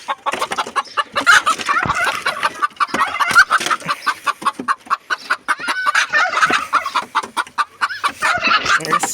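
Continuous clucking from a broody hen, close and loud, with rapid repeated throaty calls throughout and no talking.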